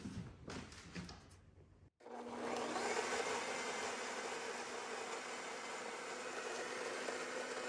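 A blender whirs loudly and steadily while mixing shredded parmesan, starting after a short burst of handling clatter and keeping a constant motor drone to the end.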